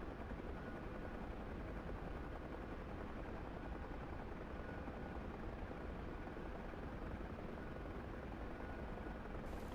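Helicopter in flight from a video game, a steady broadband rotor and engine drone holding constant and loud throughout with no gaps.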